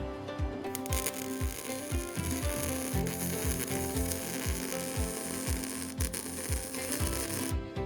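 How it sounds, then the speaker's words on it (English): A cheap welder fuses a crack in a metal plate on a Cub Cadet, a steady crackling sizzle running continuously with a rapid rhythmic ticking underneath, loud and close throughout. "I'm sure you noticed earlier this plate was cracked, so I'm going to weld it up."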